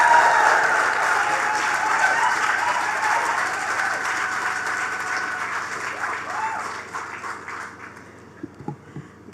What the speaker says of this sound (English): give her a round of applause, Mrs. Nicole Daniel.